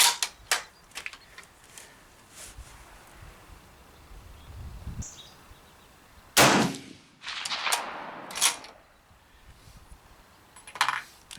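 Rifle shots from a 1903A4 at an outdoor range: several sharp, loud cracks spaced irregularly, with quieter clicks and handling noise between them and no talk.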